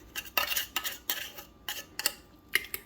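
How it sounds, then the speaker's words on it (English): A utensil mixes tuna into beaten eggs in a bowl, tapping and clinking against the sides in a quick, uneven rhythm. The sound is close and moderately quiet, with no voices. "just go ahead and mix it with the eggs"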